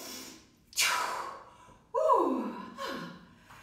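Deep breaths during a relaxation breathing exercise: a sharp audible inhale, then a long breathy release, followed by a second strong inhale and a softer one, close and clear with no talking.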